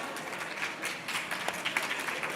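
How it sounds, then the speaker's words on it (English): Town hall audience applauding a Congresswoman: a steady round of crowd clapping at moderate distance, with individual sharper claps standing out over the wash. "Let's give the Congresswoman another round of applause."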